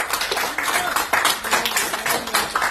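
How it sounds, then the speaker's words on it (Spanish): A church congregation claps together in a steady, fairly loud rhythm, the hand claps dense and continuous throughout with a faint tone underneath. "Dale un aplauso, Señor, aleluya"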